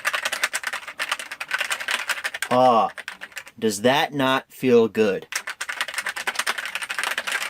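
Old computer keyboard from before the Windows key, typed on rapidly with dense clacking keystrokes close to the microphone, stopping briefly while someone speaks, then resuming.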